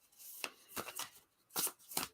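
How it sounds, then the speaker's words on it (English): A deck of cards is riffle shuffled in several quick, soft, close bursts of rapid flutter, separated by short pauses. "to riffle shuffle or scatter shuffle or whatever this is called lately"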